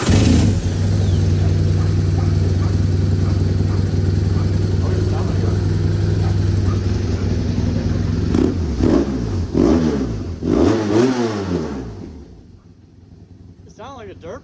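Motorcycle engine revving loud and close, its pitch climbing and falling in repeated surges like a dirt bike, then dropping away to a quieter idle near the end; people talk over it.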